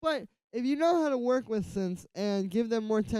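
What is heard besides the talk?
No everyday noise stands out behind the speech.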